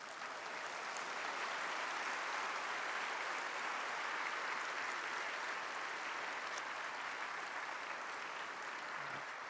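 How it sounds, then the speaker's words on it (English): Sustained, even applause from a large lecture audience at a Singapore university event, steady dense clapping continuing for several seconds at a moderate distance with no voices over it. "Can you give a big applause to Singapore government so that they can listen?"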